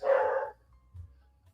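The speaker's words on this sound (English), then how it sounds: "Sorry about the dogs barking in the back." Dogs bark in the background of a home during a live futures-trading stream. One fairly distant bark burst is followed by near quiet and faint low rumbling.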